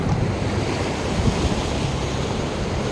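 Steady roar of ocean surf washing onto the shore, loud and continuous, with wind buffeting the microphone and no voices.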